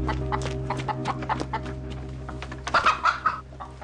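Chickens in a garden cluck softly over a steady low hum. A closer burst of several quick clucks comes near the end.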